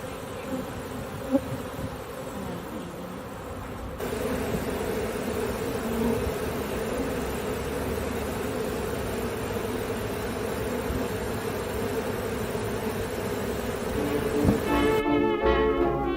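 Honey bees swarm and buzz steadily around an open hive during a live inspection, a dense, continuous hum that stays close and loud with no talk, with a brief sharp knock early on.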